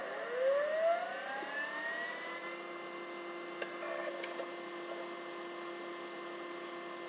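A vintage Toshiba T1200 laptop powers on with a rising whine as its motor spins up, settling into a steady hum with a few faint ticks and clicks close by.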